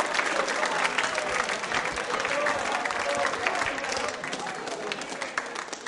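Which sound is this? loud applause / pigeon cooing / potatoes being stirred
loud applause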